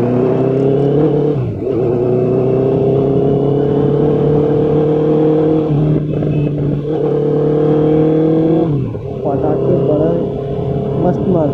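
A Honda CBR650F motorcycle rides through heavy traffic, its engine a loud, steady close-up drone that dips briefly and builds again several times as the throttle eases and reopens.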